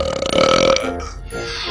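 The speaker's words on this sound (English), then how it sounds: "You got a burp, right?" A cartoon baby lets out one loud, drawn-out burp up close, ending with a brief trailing gurgle.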